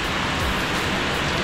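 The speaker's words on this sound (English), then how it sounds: "The rain's really hard." Heavy rain pours down during a mountain bike ride in Malaysia, a dense, steady hiss of water hitting surfaces, loud and unbroken with no speech.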